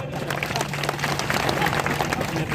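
Dense crowd applause at a public gathering rises and holds steady for a few seconds, loud and continuous, with a low hum underneath and voices blended into the noise.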